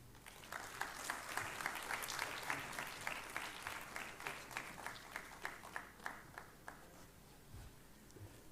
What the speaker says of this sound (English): A warm applause once again to Mr. Subhankar